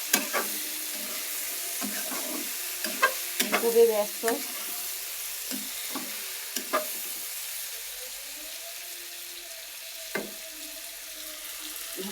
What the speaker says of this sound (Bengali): এখন বেগুনগুলো তেলে ভালো করে কষিয়ে নিয়ে